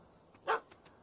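A puppy in The Witcher 3 gives a single sharp bark with a couple of faint yips around it, moderately close and otherwise quiet.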